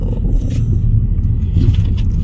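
A university bus at a Malaysian campus idles with a steady low engine rumble, close and fairly loud, with faint higher noises over it and no speech.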